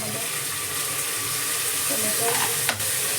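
Onion frying in a pan with tomato added makes a steady close sizzle, with light stirring and scraping and a brief clatter near the end.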